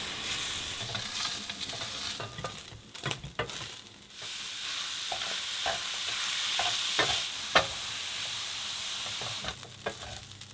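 Minced meat browning in a pan gives a steady sizzle broken by scraping stirs and sharp clicks of a spoon on the pan, close and moderately quiet, with no talk.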